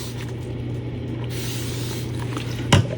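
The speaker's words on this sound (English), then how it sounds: "So, I'm gonna spritz it with alcohol." Alcohol spritzed from a spray bottle onto an epoxy-and-coffee-bean clock gives a single brief, close puff late in the moment, over a steady low room hum.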